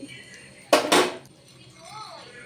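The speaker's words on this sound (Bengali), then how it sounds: "ডিমগুলো আমি একটা প্লেটের মধ্যে নামিয়ে নিয়েছি" Boiled eggs are set down on a plate in a kitchen, giving two sharp, close clinks of hard contact a moment apart, with a soft voice talking faintly around them.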